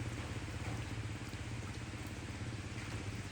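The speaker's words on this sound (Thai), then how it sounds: "ฝนตกเลยฝนตกหนักอยู่" Heavy rain falls steadily, a dense even hiss of drops with a low rumble underneath, constant and moderately loud with no voices.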